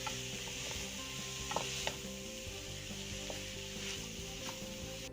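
Minced mutton and shredded cabbage frying together in a pan for samosa filling, a constant close sizzle with occasional light knocks and scrapes as the mixture is stirred.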